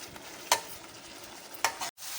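Ground cumin and coriander powder fry in oil for tomato pulao, giving a soft steady sizzle punctuated by two sharp scraping clacks of a spoon stirring the pan, close and distinct, with no voices.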